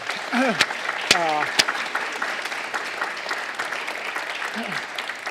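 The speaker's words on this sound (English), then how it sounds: "a round of applause for Anne for putting this together" A room audience applauds steadily throughout, with a few sharp whoops and whistles rising over the clapping and voices mingling underneath.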